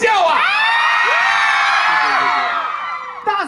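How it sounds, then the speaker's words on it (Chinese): Concert crowd at a Taipei album signing event cheering and screaming loudly, a sustained wall of high shrieks and whoops that holds steady for several seconds before easing slightly at the end. "掌声加尖叫啊！"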